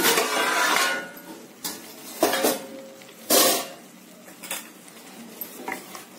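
A lid comes off a pot of simmering chickpea and brinjal gravy with a few sharp metallic clanks and scrapes, then a softer bubbling hiss in between, near and without talk.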